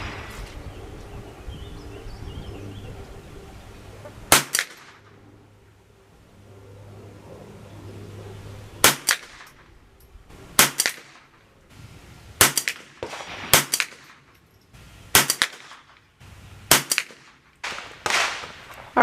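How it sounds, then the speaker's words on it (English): A rimfire rifle fitted with a 2-7x32 scope fires about nine loud, sharp shots outdoors, spaced a second or more apart, over a low engine hum and light background noise, with no talking. "Now let's shoot it a little bit."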